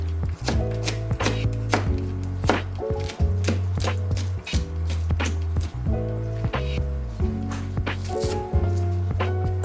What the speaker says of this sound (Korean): 대파를 썰어주세요.